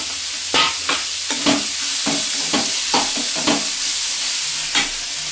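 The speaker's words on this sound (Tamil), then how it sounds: "எல்லாத்தையும் போட்டு வதக்கணும்" Onions sizzle in a frying pan for chutney while a utensil stirs and scrapes in a loose rhythm, each scrape briefly louder over the constant hiss.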